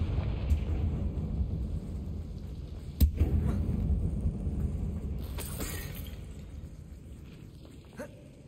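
Confringo, a blasting curse in the game Hogwarts Legacy, fires inside an abandoned mine, one sharp explosive crack followed by rumbling debris and fading echoes, then a smaller impact.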